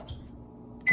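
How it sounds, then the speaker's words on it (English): A microwave oven runs while cooking a cake, with a low steady hum and faint background noise, then a sudden loud burst of sound near the end. "Now we're gonna stick it in the microwave for 2 minutes"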